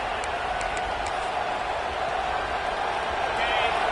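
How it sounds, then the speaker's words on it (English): Steady roar of a virtual stadium crowd in a college football video game, TCU visiting Oklahoma, a dense wash of cheering held at a constant level throughout with no clear breaks. "It's early, but this crowd is fired up. Listen to this noise here."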